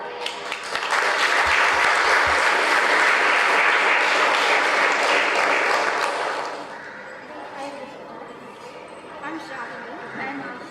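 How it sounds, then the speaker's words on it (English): Applause for young students at a school science week fills a hall: sustained, dense clapping from a large audience that swells, holds for several seconds, then fades into scattered claps and murmuring voices. "Let's give them a big round of applause."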